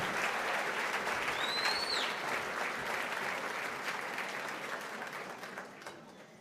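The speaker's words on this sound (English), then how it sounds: "together, give yourselves a round of applause" A crowd at the 56th annual MLK Breakfast breaks into sustained applause that slowly tapers off, with a brief high whistle rising above the clapping early on.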